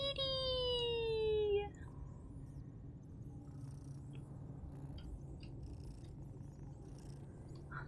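A cat purrs softly and continuously in the video game Broken Veil, a low, steady rumble that runs alone after a brief rising electronic tone at the start.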